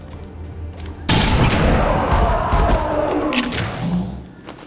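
A shotgun blast in the turn-based tactics game XCOM 2 hits suddenly and loud, then rolls on as a long, dense roar of crackling debris that slowly fades out.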